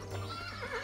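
A horse neighs in a short, high whinny in a cartoon, fairly close and clear, with no talking.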